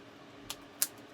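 Two quick, crisp snips of sharp scissors cutting regular tape while assembling a Julie Nutting Bunny Prima Doll, close and fairly quiet, spaced under a second apart.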